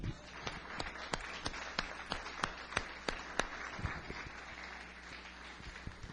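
A church congregation applauding, with sharp separate claps in an irregular rhythm that thin out toward the end, fairly faint and heard alone against a low steady hum.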